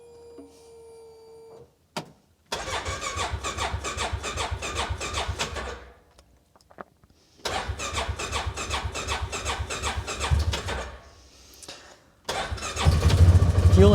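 A fuel-injected ATV engine is cranked in repeated long bursts of churning starter noise, stopping between attempts, before it catches and rumbles on loud and close at the end.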